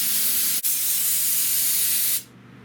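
A continuous close spray of adhesive hisses onto a car headliner during red velvet upholstery work on a 1979 Limited, steady for about two seconds with a brief interruption, then cut off.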